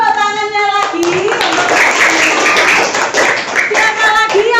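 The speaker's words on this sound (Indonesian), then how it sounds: "Tepuk tangannya lagi." A class of students breaks into a burst of clapping for about three seconds during a classroom lesson, with talking just before and after.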